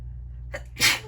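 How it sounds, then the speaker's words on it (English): A single sharp sneeze close to the listener, preceded by a brief inhaling catch, over a low steady hum. "Oh, I'm so sorry. Excuse me. Sneeze."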